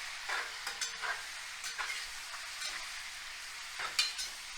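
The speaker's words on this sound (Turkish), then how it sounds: "Karıştıra karıştıra karıştıra karıştıra güzelce kavuracağız." Beef kavurma frying in a cast iron pot while being stirred: a steady soft sizzle broken by repeated scraping strokes of the stirring utensil, fairly quiet and close.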